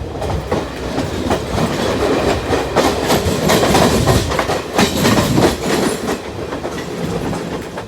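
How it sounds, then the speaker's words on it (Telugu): A crowded passenger train running near Kalyan Junction in Mumbai, loud and close, with a continuous rumble and rhythmic clickety-clack of wheels over rail joints throughout, with no speech. "ట్రైన్ కళ్యాణ్ జంక్షన్ దాటింది అండ్ జనాలు చాలామంది ఎక్కారు ట్రైన్లో"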